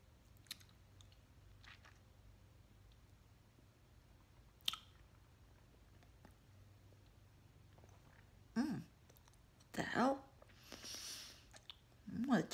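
Someone chews gum close up with wet, sticky clicks and smacks. The sounds are sparse at first, then grow busier and louder toward the end.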